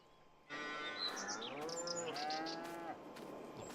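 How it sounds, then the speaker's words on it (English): A cow on a farm lets out one long, drawn-out moo close by, with faint bird chirps in the quiet background. "Cows around here, lots of hungry cows around here, I bet."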